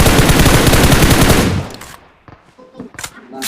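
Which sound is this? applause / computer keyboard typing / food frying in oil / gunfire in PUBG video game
gunfire in PUBG video game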